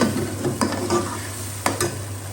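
Onion, tomato and chili frying with garlic-ginger paste in a masala for fish, giving a close, continuous sizzle with a handful of sharp spoon scrapes against the pan.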